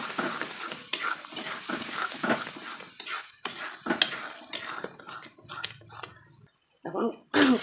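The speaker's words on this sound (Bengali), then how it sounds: "এখন আলুটা ভালো করে কষিয়ে নিতে হবে" Boiled potatoes are stir-fried in a pan with spices, heard as repeated scraping strokes of a utensil against metal over a low sizzle, the rhythm steady before it cuts out briefly and resumes.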